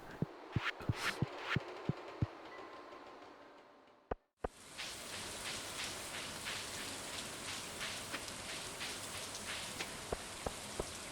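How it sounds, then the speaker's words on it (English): Rain falling in the Stardew Valley video game, a soft steady patter that drops out briefly then returns denser and brighter, with sharp clicking footsteps ticking over it and no talk. "Just walking home in the rain."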